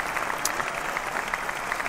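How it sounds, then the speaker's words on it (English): A crowd applauds continuously, a dense even patter of many hands clapping at moderate volume with no voices over it. "Of course, everybody gets an astounding round of applause"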